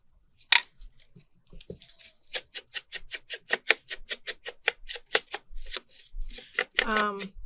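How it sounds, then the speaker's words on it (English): Paper corners being clipped with a corner punch: a rapid series of about twenty sharp, close snipping clicks in quick rhythm, ending with a brief crinkly rustle. "Clip all the corners on this."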